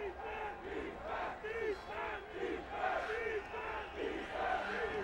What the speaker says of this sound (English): Crowd starting to get involved